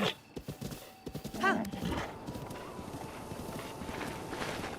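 Horse hooves clip-clop across ground in the Breath of the Wild video game, with a brief whinny early on, then a busy patter of galloping steps and soft rustling at moderate volume.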